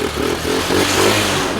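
Off-road mini jeep engine runs in a pulsing, throbbing rhythm, loud and close, revving steadily with a clattering mechanical tone.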